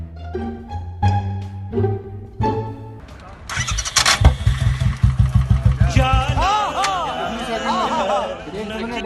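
A Royal Enfield Bullet motorcycle engine starts after a few preceding sounds and settles into a rapid, loud thumping idle, with voices chattering nearby.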